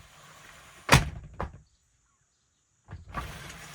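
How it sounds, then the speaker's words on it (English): Shower door in a 2023 Knaus Van Wave camper van being closed, giving a sharp click and a smaller knock, a silent pause, then another bump as it settles. "To fix it, you just need to close the door."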